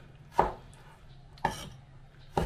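Blanched, skinned tomatoes are chopped small with a kitchen knife on a cutting board: three separate, crisp knocks about a second apart, close and fairly quiet, with no talking.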